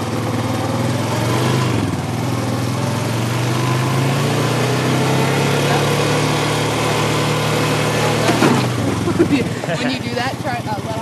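An ATV engine drones steadily while being ridden, a buzzy mid-pitched hum that drops in pitch near the end as the throttle eases, with people talking over it.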